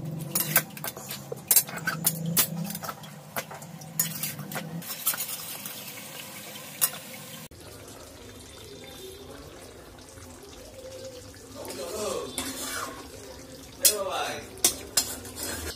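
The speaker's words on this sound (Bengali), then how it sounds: "তাহলে মাংসটা ঝটপট নাড়াচাড়া দিই" Chicken curry is stirred in a pot, with a spoon scraping and clanking against the metal in irregular knocks over a soft simmer, the clatter dense at first and sparser later.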